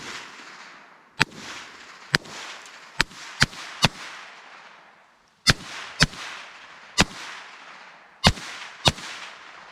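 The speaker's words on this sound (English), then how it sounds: "We're gonna shoot them with that 1022" Ruger 10/22 rifle shots at cans, a run of about ten sharp, loud cracks in irregular bursts with brief ringing tails, no voices.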